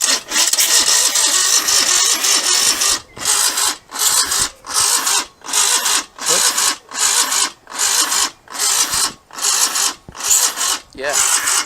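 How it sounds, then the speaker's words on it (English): A tired starter motor on a Moto Guzzi motorcycle cranks the engine in a long continuous grind, then breaks into a steady run of about a dozen rhythmic cranking pulses. The sound is loud and close. "I think this starter motor is getting a bit tired"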